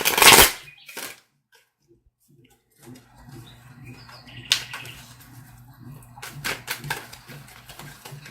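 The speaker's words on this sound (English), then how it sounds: "I've been shuffling these for a while, just getting a little more of your energy on them" Tarot cards shuffled by hand: a loud riffling burst at the start, a second brief flurry, then quieter intermittent card rustles and snaps over a low background hum.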